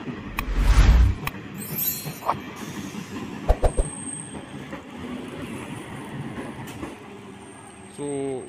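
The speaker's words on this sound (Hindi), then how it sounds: "और आप यहाँ पे देख सकते हैं एक और ट्रेन यहाँ पे आ गई है जो कि 4 नंबर प्लेटफॉर्म है।" A Naihati–Majerhat local train pulls in at platform 4 of Agarpara station, its rumble and clattering wheels mixing with sharp bangs, a thin high squeal and platform noise, while faint voices may be present nearby.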